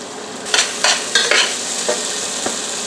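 Onion, mushrooms and garlic sizzle in a pan under a steady frying hiss, with several sharp scraping stirs in quick succession, close and fairly loud.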